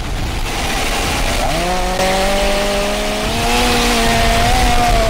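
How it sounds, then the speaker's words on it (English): A chainsaw in the online survival game Rust revs up loud and steady, its whining engine tone climbing in pitch and holding for several seconds, with no talking over it. "The chainsaw."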